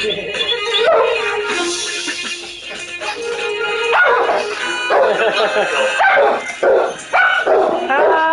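Dog barking and yipping inside the video game Borderlands 3, loud and repeated throughout over a dense backdrop of game music and effects, with a voice speaking at times.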